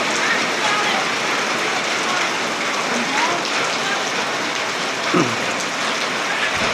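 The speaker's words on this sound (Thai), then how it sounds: "ฝนตกพี่น้องเอ้ยดีแต่มาฮอดบ้านฝนตก" Steady rain falls around a rural village home in the wet season, a continuous even hiss with faint voices now and then underneath.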